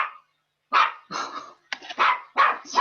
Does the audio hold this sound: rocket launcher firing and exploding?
no